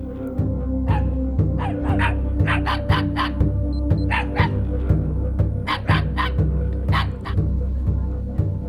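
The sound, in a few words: dogs barking threateningly in the jungle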